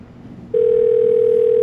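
A telephone handset gives a short burst of line noise, then a steady, loud, unbroken dial tone takes over and holds to the end, with no one speaking.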